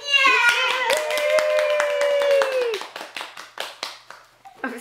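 Audience at a children's puppet show claps along, a voice holding a long drawn-out tone over the first half, then scattered individual hand claps tapping out sharply and unevenly toward the end.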